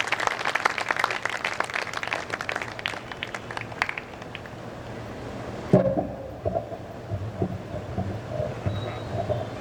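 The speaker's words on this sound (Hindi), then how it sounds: "मैं चाहता हूं जोरदार तालियों के साथ भाई मनोज गुर्जर को आमंत्रित करें।" An audience at a Hindi poetry gathering (kavi sammelan) bursts into dense clapping that fades after a few seconds into murmuring hall ambience, with a thump and some faint voices following.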